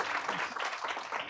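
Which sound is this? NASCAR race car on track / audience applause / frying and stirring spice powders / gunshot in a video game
audience applause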